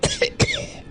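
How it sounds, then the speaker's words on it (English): A quick, close burst of three dry coughs in rapid succession, then silence. "How long have you had that cough?"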